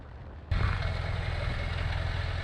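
A motorcycle on a race track roars in suddenly after a quieter start and holds a loud, steady, broadband engine drone close by.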